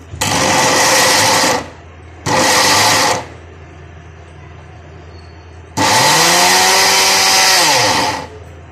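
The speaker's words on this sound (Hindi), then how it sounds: "अब यहाँ पे मैं अखरोट ले रही हूँ और इसको भी मैं ग्राइंड कर लूँगी" An electric mixer grinder whirs loudly in three bursts, two short and one longer, grinding walnuts with fried ingredients for dry panjiri, the motor pitch sagging and recovering under load, with quiet gaps between.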